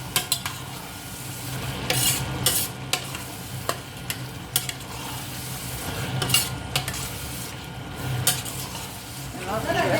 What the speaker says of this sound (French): On va maintenant mélanger.